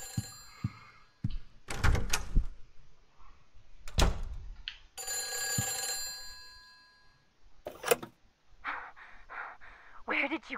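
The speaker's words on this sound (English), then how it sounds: "The phone's ringing." Telephone ringing in the horror video game Silent Hill 4: The Room, heard as a few sharp harmonic rings in separate bursts between thuds and other game sounds, with a voice speaking over parts of it.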